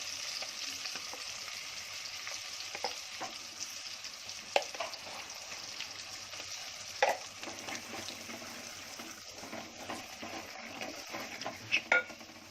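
Spices and red chilli powder fry in a pan for a Konkani fish curry, giving a soft continuous sizzle with occasional clinks of a utensil against the pan.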